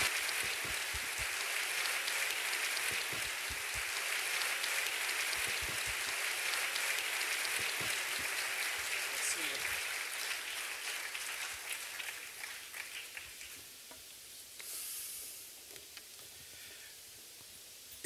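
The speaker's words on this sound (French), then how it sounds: "Je vous demande d'accueillir sous vos applaudissements le parrain de la graduation 2011." A crowd applauds at a 2011 graduation ceremony at a French lycée in Antananarivo, steady dense clapping that fills the hall and slowly thins and fades toward the end.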